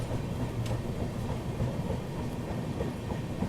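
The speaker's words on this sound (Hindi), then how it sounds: "सामने से ये आ रही है गोमती एक्सप्रेस।" Gomti Express passenger train approaching slowly on caution near Delhi, a steady broad rumble of wheels on rails with soft clickety-clack, fairly close and even in loudness, no talking.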